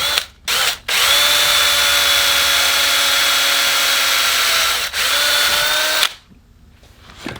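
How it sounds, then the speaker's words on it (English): A power drill whines at high speed through a hole in the center of a metal oil pump part, starting after a couple of short bursts, running steadily, then spinning down near the end. "I got a drill bit here, and we are going to go ahead and drill a little hole"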